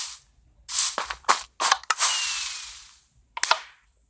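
Fireworks crackle and pop in a rapid series of sharp bursts, with a long hissing whoosh in the middle and a final cluster of loud cracks, close and loud with no talk.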